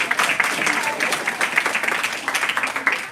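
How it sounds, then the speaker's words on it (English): Women at a self-defense workshop clapping for themselves, a brisk bright round of applause from a small group close by, with voices mingled in. "Give yourself a round of applause, ladies."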